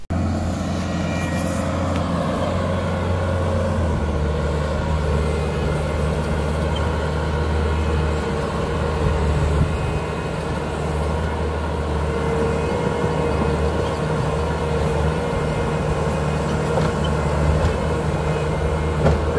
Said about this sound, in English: Good thing we got the skid steer and the excavator.